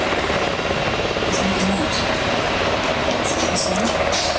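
Loud, continuous rotor and engine roar of a nearby Seahawk helicopter at a fleet review, a dense steady wash of noise.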